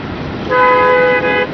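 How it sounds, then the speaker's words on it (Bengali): A road vehicle horn gives one sustained honk of about a second, loud and close, over a low rumble of passing traffic, heard during a ride on a Honda SP 160 motorcycle in Bangladesh near Diabari. "তুমি তো হর্ন দিবাই"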